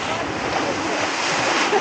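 Water fountain splashing at the swimming pools of a bushveld caravan park, a steady broad hiss of falling water that runs unbroken and fairly loud, with faint background sound.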